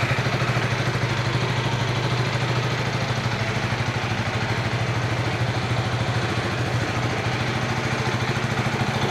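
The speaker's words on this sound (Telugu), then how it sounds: "అండ్ ఇప్పుడు మనం ఒకసారి ఎగ్జాస్ట్ నోట్ విందాము బండిది" Idling exhaust of a 2025 KTM 250 Adventure motorcycle, a steady close putter with a slight rattling clatter that holds evenly throughout, no voices over it.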